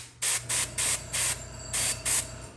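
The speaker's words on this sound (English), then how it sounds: "the only way to get better with the airbrush is to practice" An airbrush sprays paint onto a miniature figure in six short, even hissing bursts separated by brief pauses, close and steady, with no voices.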